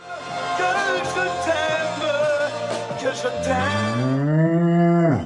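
A cow moos loudly and close by in one long, drawn-out bellow that swells and then bends downward at the end, with no other voices.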